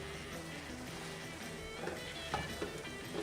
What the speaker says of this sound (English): we're getting some frying going on